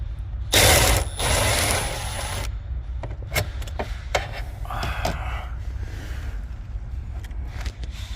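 A socket wrench with a 6-inch extension and 10mm deep-well socket loosens radio bolts in a 2006 Mazda Miata: a loud rasping burst of ratcheting near the start, then scattered sharp clicks and taps close by.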